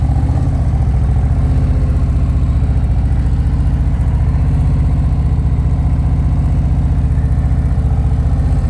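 A motorcycle engine runs in first gear at slow riding speed, a steady loud low throbbing drone with a fast even pulse throughout and no talking.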